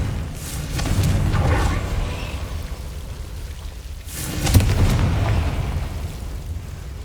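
Confringo fire spell blasts in the video game Hogwarts Legacy: two heavy booming bursts with rumbling low end, one near the start and a stronger one around the middle, over a steady crackling game ambience.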